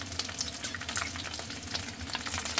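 Onions and garlic fry in oil in a pan for pancit guisado, giving a short, close, crackling sizzle with dense bursts of spatter and no talking.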